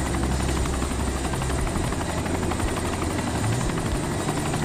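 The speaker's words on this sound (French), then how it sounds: "Allez, ce hélico, normalement, il pourra pas vous taper." Loud, continuous whirring rotor drone of a helicopter flying close by in DayZ Epoch, steady throughout with no speech.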